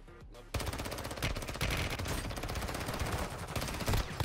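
Loud, continuous automatic gunfire in the mobile shooter Warzone Mobile, a dense burst of rapid shots that begins after a brief quiet start and keeps going without pause.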